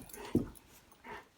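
Brief, quiet dog noises: a short soft yelp followed by a faint whine, close by in a quiet indoor room.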